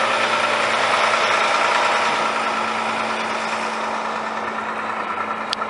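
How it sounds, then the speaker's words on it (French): A truck engine idles nearby with a constant low rumble and steady hum, loud and unbroken from start to finish. "C'est très spontané, il y a un camion."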